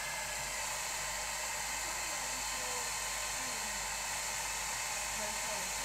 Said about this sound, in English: let me quickly blast that with a hairdryer